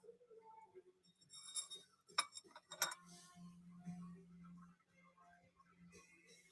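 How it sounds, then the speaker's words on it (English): A wine glass clinks a few times at a jewelry and altar decor sale, with bright glassy taps over a quiet background hum and faint room noise. "My glass of wine."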